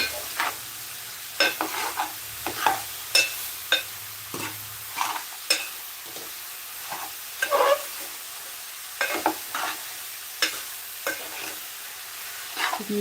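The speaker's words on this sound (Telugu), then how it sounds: "దీంట్లో పచ్చిమిర్చి ఉల్లిపాయలు ఉప్పు కారం కాస్త అల్లం పేస్ట్ ఒక్క టమాటో ఇవన్నీ వేసి ఇలా ఫ్రై చేసుకుంటున్నాను" Green chilies, onions, salt, chili powder, ginger paste and tomato frying in a pan for a ridge gourd curry. A soft sizzle runs underneath while a spoon stirs and scrapes in repeated, irregular close strokes, with no talking.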